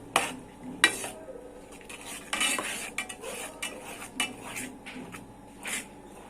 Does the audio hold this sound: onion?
yes